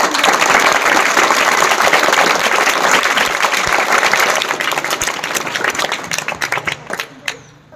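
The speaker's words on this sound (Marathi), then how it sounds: "मी आपणास विनंती करते की या सर्व शिक्षकांसाठी एकदा जोरदार टाळ्या" An audience at a school event applauding its teachers, loud dense clapping that holds steady and then thins into scattered claps before fading out.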